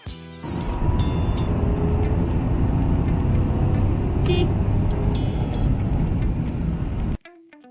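A car engine droning steadily as it climbs a winding uphill mountain road toward Khardung La near Leh in Ladakh, a loud continuous rumble with wind noise that cuts off abruptly near the end.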